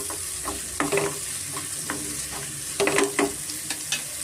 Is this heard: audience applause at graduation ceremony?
no